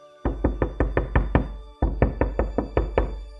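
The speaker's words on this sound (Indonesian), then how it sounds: "Tiba-tiba pintu kamar diketuk." Knuckles rap on a bedroom door in a house, two quick loud series of about seven sharp, evenly spaced knocks separated by a short pause, close and clear with no talk.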